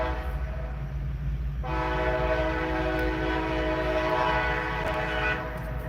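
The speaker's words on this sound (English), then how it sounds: "Comes the train." A train passes close by, its horn sounding in a long, loud sustained blast over the steady rumble and clatter of the rail cars.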